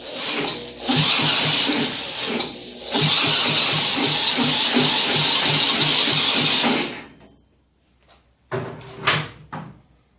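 A 1959 Mitsubishi Silver Pigeon scooter engine runs loud and close at half throttle, a steady buzzing roar with two brief dips before it dies away, followed by a few sharp mechanical clicks and knocks.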